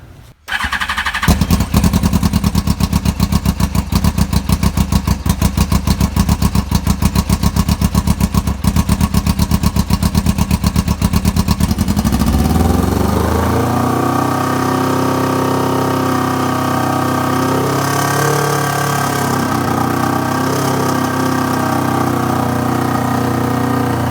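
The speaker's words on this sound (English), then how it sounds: "We're gonna start up our new high flowing exhaust system" A twin-turbo engine with a new high-flow exhaust fires up and runs with a fast, loud clattering rumble, then settles into a deeper, steadier throaty idle with some revving.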